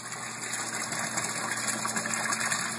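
Water pump drawing water in from the sump of a homemade aquaponics system beside the fish tank, a steady close hum with gushing flow, constant and unbroken.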